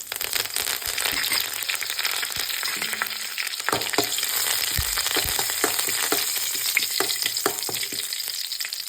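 Curry leaves sizzling in hot oil while banana flower stir-fry (thoran) is cooked, a dense continuous crackle with scattered sharp pops and stirring scrapes, close and steady throughout.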